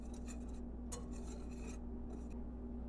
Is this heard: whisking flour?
yes